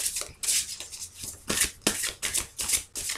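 Tarot cards are shuffled in repeated quick riffling bursts, crisp and close, with a steady rhythm of about two shuffles per second, before a card reading and with no talking.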